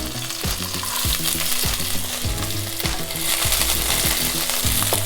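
Ginger and garlic fry in oil in a hot pan, sizzling and crackling steadily, with repeated scraping stirs of a spatula at a regular pace, loud and close, no voices.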